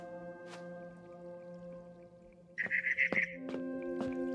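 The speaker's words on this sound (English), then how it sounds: "Then I heard chirping outside my window." Within a video game, a bird chirps outside a window: a brief rapid burst of high twittering notes over a steady tonal musical background, with a few soft clicks around it.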